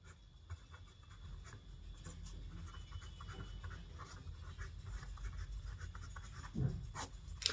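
A pen scratches steadily across paper while a math solution is written out, faint close strokes and small taps continuing without pause and no voices over them.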